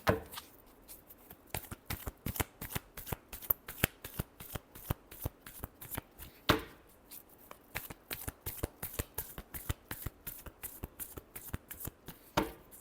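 A deck of tarot cards shuffled by hand, a fast run of crisp close riffling flicks repeating steadily for several seconds with a few louder snaps, no talk.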